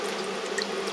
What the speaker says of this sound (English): I'm going to draw a sample of this RO water from the filter system